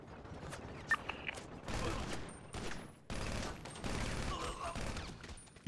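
SMG fire from a GTA roleplay game comes as quick repeated bursts and scattered shots in a busy, fairly quiet mix.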